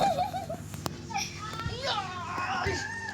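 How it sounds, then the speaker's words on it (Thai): Young children's voices overlap in a raised, squabbling exchange, shrill and close, with rising and falling pitches for a few seconds. "อันนี้มีน้องทะเลาะกันอยู่นะครับก็ไม่ต้องสนใจเนาะ"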